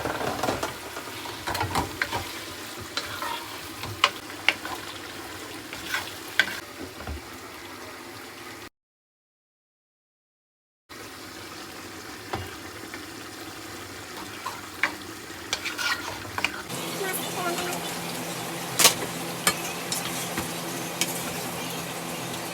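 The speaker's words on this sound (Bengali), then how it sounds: "এখানে সাতকরা দিয়ে ছোটো মাছ রান্না করছি" Small fish with satkora citrus sizzling and frying in a pan, with occasional stirring and scraping; a steady crackle runs throughout, broken by a brief gap, then grows brighter and louder toward the end.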